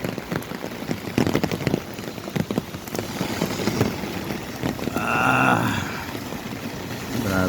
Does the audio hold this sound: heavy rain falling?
yes